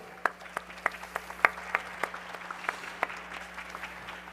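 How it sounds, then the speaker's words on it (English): Light welcoming applause from a conference audience, a thin scattering of claps with a few louder individual hits over a low, steady hum in the hall. "Yes, please give me a welcoming applause."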